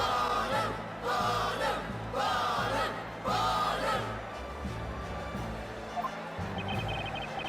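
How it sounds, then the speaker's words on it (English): A rowdy courtroom gallery in the Professor Layton vs. Phoenix Wright: Ace Attorney video game whoops and cheers in repeated bursts, with bouncy game music running underneath. "The crowd doesn't seem very interested in law, that's for sure."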